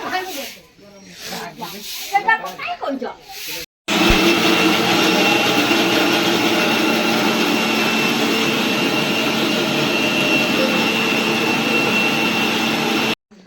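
A kitchen mixer grinder runs as a loud, steady whirring drone for about nine seconds, starting abruptly after a short stretch of people talking nearby.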